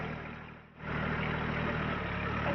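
A Mahindra HST eMax 20s compact tractor engine runs at raised RPM, a steady close drone that briefly dips, then settles into an even, slightly louder hum.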